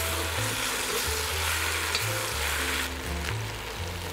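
Vegetables and garlic sizzle in a pot with tomato paste, a steady close frying crackle mixed with intermittent stirring scrapes.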